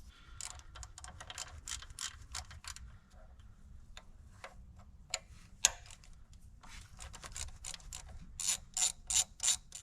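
Ratchet wrench backing out two T25 bolts from the top of a 2020-plus Ford Super Duty diesel fuel pump, a close series of quick metallic clicks in bursts, growing louder and sharper toward the end.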